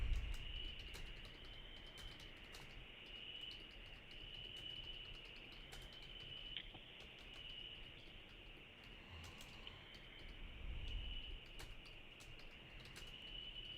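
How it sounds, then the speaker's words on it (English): Crickets chirp steadily outdoors at night, a faint continuous high-pitched trill that runs unbroken throughout, with occasional soft background rustles. "I hear the crickets."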